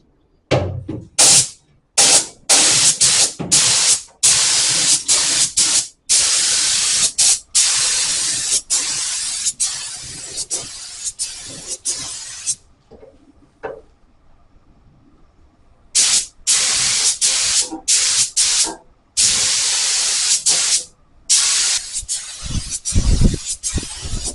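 Spray gun applying a second coat to the boot of a Holden Torana UC, loud bursts of hissing spray in repeated passes separated by brief silences, with a longer quiet gap midway and a few knocks near the end.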